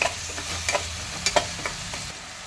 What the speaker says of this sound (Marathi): आता टोमॅटो टाकून घेऊया. टोमॅटो पण तसाच छान तेल सुटेपर्यंत आता परतवून घेऊया.